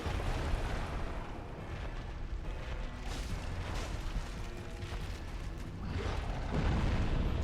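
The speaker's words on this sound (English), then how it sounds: "that explosion attack can hurt a lot" A boss's explosion attack in Dark Souls Remastered bursts with a dense, rumbling roar that stays heavy and continuous throughout, swelling again near the end, with no speech.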